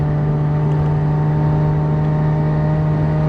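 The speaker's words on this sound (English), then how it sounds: "keeping it at a nice high RPM to try and get the engine bay hot" A Mazda RX-7 FC3S rotary engine holds a steady, high-pitched drone at sustained high revs, loud and constant throughout with no speech.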